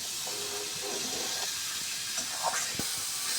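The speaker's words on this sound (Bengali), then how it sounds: "কচুরমুখী আলু পটল দিয়ে সুন্দর করে ভাজে নিচ্ছি" Taro, potato and pointed gourd frying with spices in hot oil, a steady broadband sizzling hiss throughout with a few faint clinks, close and even, without talk.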